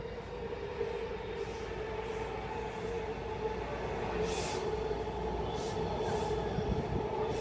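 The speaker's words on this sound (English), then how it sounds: "And then finally, my train came." A metro train rumbles steadily with a constant hum and periodic whooshing swells, loud and close, as though pulling into a station.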